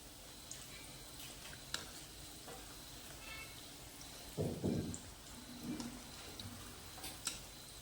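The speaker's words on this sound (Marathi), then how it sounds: "बघा तोपर्यंत आपण हे व्यवस्थित तळून घेणार आहोत." Crispy vegetable cutlets fry in oil with a soft, continuous sizzle, swelling into a few brief louder bursts of bubbling and scattered small ticks.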